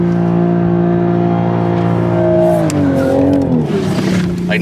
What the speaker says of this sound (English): not a lot of cars will let you just do a standing burnout